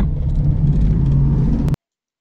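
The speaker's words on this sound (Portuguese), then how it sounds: "Subindo em terceira tranquilamente" A Gurgel XEF car climbing a hill in third gear, with a steady engine drone and road rumble from inside the cabin, cutting off abruptly after under two seconds.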